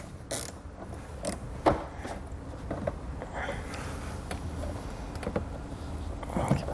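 A ratchet and 7mm socket loosening small screws on a K-Source custom extendable towing mirror for a 2003 vehicle, giving faint, irregular clicks and creaks over a steady low background.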